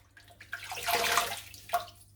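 Water pours and splashes out of rinsed Fluval 307/407 canister filter media, a short gushing run that swells, fades, then spills again briefly.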